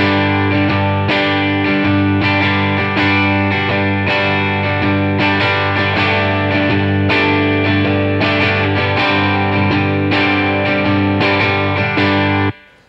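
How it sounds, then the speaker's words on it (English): A dense looped music passage plays through a Logic Pro X Pedalboard amp with effects bypassed, at steady volume, full and sustained, stopping abruptly at the end. "let's take a listen to the loop we've set up without any effects engaged"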